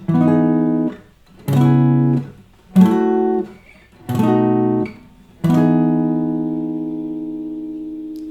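Guitar 7th chords strummed one after another, five in a row with short gaps, the last chord left ringing and slowly fading.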